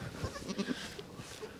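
A mother goat in a Kazakh village bleats in a few short, nasal calls, fairly close against quiet outdoor background, with no speech.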